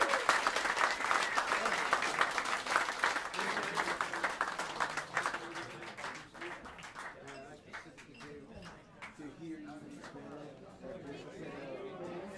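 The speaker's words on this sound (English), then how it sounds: "how about a round of applause for these fantastic musicians" Applause and cheering from a small audience at Smalls Jazz Club in New York City for a live jazz quartet, dense clapping that gradually thins out while crowd chatter continues underneath.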